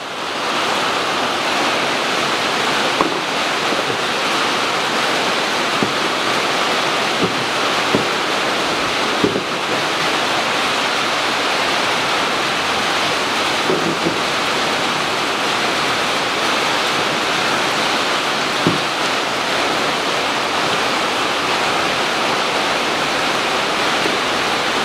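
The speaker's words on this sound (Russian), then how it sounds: "О, у нас ливень в январе разошелся" A heavy January rain downpour roars as a dense, even wash of noise, with a few faint knocks and taps underneath.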